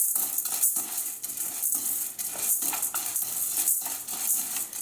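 Spices dry-roasting without oil in a pan on low flame are stirred constantly, with steady faint scraping and light rattling plus a soft sizzling hiss, close up and without voices.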